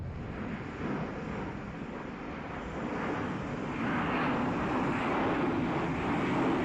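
Jet engines of a B-52 bomber roar in a continuous broadband rush that swells a little louder toward the end.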